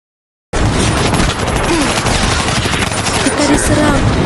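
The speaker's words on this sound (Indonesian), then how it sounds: "Beberapa saat kemudian, suara tembakan memecah suasana." Rapid bursts of gunfire erupt after a moment of silence, dense and continuous like a fusillade, loud and close.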